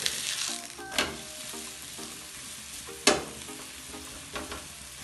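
Akki roti, a rice flatbread, frying with oil on a griddle, a soft steady sizzle with a few sharp scraping clicks of a utensil against the pan.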